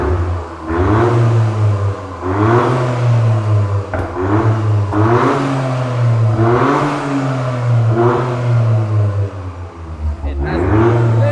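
Toyota GR Yaris with a custom exhaust decelerating, giving a loud, close, low burbling drone that pulses and rises and falls in repeated waves, with occasional voices over it.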